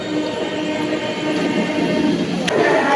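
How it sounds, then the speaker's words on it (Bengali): A train rumbles steadily, loud and close, as it arrives at Baruipur station, with a sharp metallic clank near the end. "আমাদের ট্রেন অবশেষে বারুইপুর ঢুকলো"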